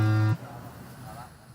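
A loud, steady electronic start tone sounds for a drone race heat at an outdoor show, a single sustained buzz cutting off abruptly, leaving faint background noise and talk.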